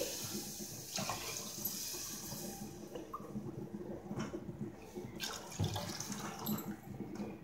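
Water poured from a vessel into roasted semolina in a pan while making Annavaram prasadam, a quiet splashing pour with small clinks and gurgles.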